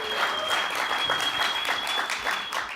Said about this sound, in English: Can I get a little applause of aliveness right now?